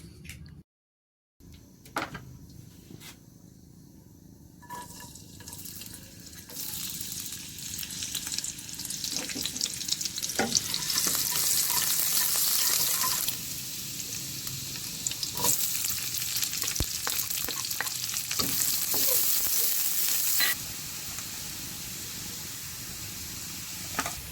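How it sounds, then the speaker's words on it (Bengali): Chopped garlic frying in oil in a wok, a continuous close sizzle that swells louder partway through, with scattered clicks and scrapes of stirring over the crackle. "ওই কড়াইতে আবারও তেল দিয়ে তাতে আমি কিছুটা রসুন কুচি দিয়ে দিচ্ছি"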